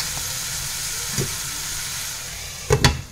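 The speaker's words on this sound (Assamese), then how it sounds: "ঢাকনখন মাৰি বিলাহীখিনি যেতিয়ালৈকে সিজে ধুনীয়াকৈ একেবাৰে গলি যোৱালৈকে তেতিয়ালৈকে সিজাই ল'ম" Tomatoes and spices sizzle softly in a covered pan with a steady frying hiss, followed near the end by a couple of clinking knocks from utensils against the pan.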